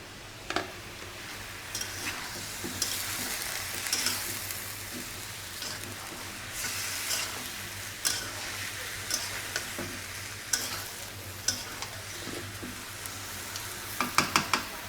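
Chicken pieces frying in a pan crackle and sizzle continuously while a utensil stirs them, adding intermittent scraping knocks that cluster more densely toward the end.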